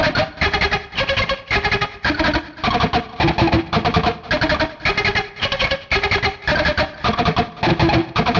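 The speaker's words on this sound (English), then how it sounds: "if I played the entire thing up and down through the lick and cycled it, it'd sound like this" Electric guitar playing a fast, cycling lick with full alternate picking, dense even note bursts in a repeating pattern, loud and close with no talking.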